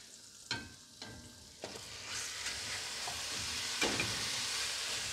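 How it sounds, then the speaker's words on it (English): Meat searing in a pan for Carbonade Flamande, starting with a few sharp clatters as pieces go in, then settling into a soft, steady sizzle heard up close with no voices. "Just let sear it a little bit"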